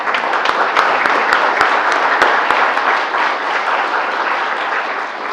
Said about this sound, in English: we'll do a little applause right here and a little applause at the end